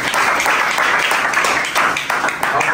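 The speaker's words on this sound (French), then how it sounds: "Applaudissons, c'est vrai" Applause from an audience at a fashion show in Pointe-Noire, Congo, steady dense clapping filling the whole moment, loud and close with a bright, crackling texture.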